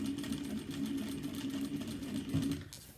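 Sewing machine running steadily while stitching a cross-body bag strap, a continuous close mechanical whir with a buzzing tone that surges briefly before slowing near the end.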